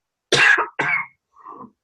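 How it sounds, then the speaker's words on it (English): A woman coughs twice in quick succession, close and loud, followed by a softer throat-clearing sound during a talk on cardiac MRI for women. "I haven't coughed all day until I started talking"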